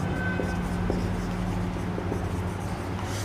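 Pen scratching on paper while a quadratic-equations answer is written out by hand, a steady soft scribble over a low constant hum, with no voices.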